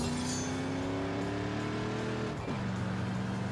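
A Corvette, America's sports car, drives past loudly, its engine note holding a steady harmonic drone before dropping sharply in pitch around the midpoint, as if passing or shifting, with no talk over it.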